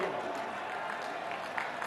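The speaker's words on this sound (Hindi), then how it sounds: "श्री वीरेंद्र सचदेवा जी, तालियों से एक बार अभिनंदन कीजिएगा" Crowd at a political rally in Delhi claps in a broad, steady wash of applause, with a voice audible over the clapping from the stage.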